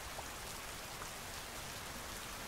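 Continuous rainfall patters down in a soft, unbroken wash, with scattered droplet ticks, near and alone.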